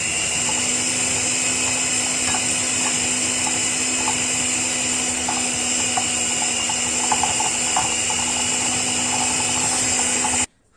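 Steady high-pitched whine of an electric hand mixer beating softened butter, sugar and vanilla, running continuously and close up with faint rattling clicks from the beaters against the bowl, then cutting off abruptly at the end.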